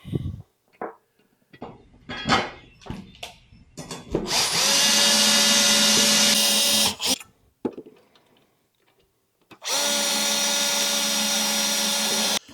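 A power drill whirs loudly in two sustained bursts of several seconds each, with short knocks and clatters of handling in between, while bolting a cover onto a TYM T25 tractor.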